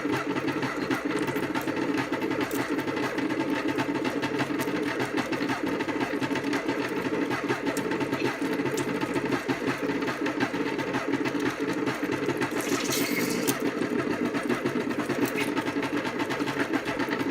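A 1981 Oster Kitchen Center meat grinder running on its own: a continuous, even motor whir with a faint mechanical chatter, steady and close throughout with no voices.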